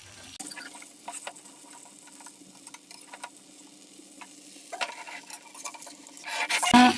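Potato fries are turned in a pan of hot oil for a Kerala-style potato fry, with soft scraping and stirring over a low sizzle, building to louder clattering at the end.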